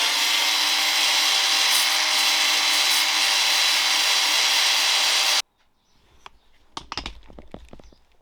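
Belt sander grinding down solid body mount blocks on a V8 Land Rover Discovery comp build, a loud steady roar for about five seconds that cuts off abruptly, followed by scattered knocks and handling noises.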